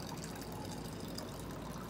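Beer flowing steadily from the tap of a German wooden gravity keg into a glass, a continuous close trickle and splash with no talk.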